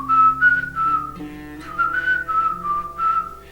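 A person whistles a melody along with an instrumental recording during a meditation session, loud and close, the sustained tones gliding between pitches over a soft musical backing, with no talk.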